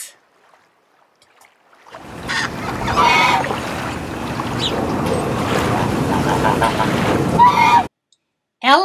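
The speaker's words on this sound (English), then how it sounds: "Ducks." Ducks and geese honking and squawking on water, a noisy flock heard for several seconds with splashy background and a few sharper calls standing out.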